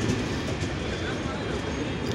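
The Nilsagar passenger train rumbles through Syedpur railway station, a continuous low rolling roar of wheels and carriages close by, steady for the whole stretch.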